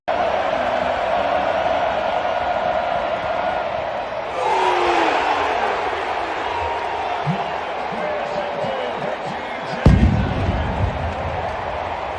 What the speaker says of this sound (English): you can hear the whole crowd go, "Ooh!"